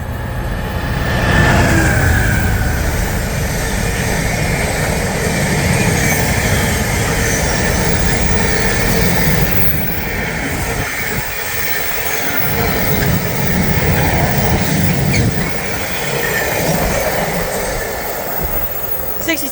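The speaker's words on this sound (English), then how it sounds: "passing through now is a Freightliner Class" A Freightliner Class 66 diesel freight train running from Trafford Park to Felixstowe passes through Berkhamsted station, a loud, close, continuous rumble and rattle of wagons sustained for the whole stretch.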